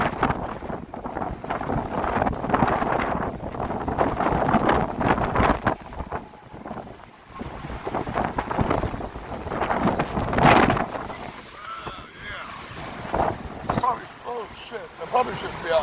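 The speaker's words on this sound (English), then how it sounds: "So the wind gusts have turned into some pretty sustainable winds" Strong hurricane gusts from Hurricane Milton in Port Charlotte, Florida, roar against an outdoor microphone in loud, buffeting surges that rise and fall, with a voice talking briefly in the storm.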